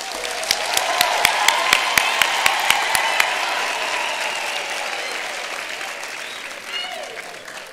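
An audience at a university graduation ceremony applauds its graduates: a large, reverberant hall of clapping with a few sharp nearby claps standing out early, then a sustained wash that slowly tapers, with a faint voice underneath.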